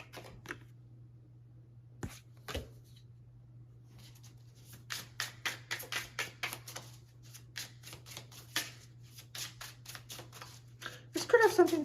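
Tarot cards being shuffled and laid out on a table, a string of quick close soft flicks and snaps that grows busier toward the end, against a quiet steady hum, with a person talking.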